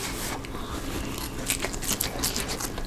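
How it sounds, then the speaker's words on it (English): Bites into crunchy air-fried turkey skin, a series of close, crisp crackling crunches and chewing sounds with no talking. "Oh, crunchy skin."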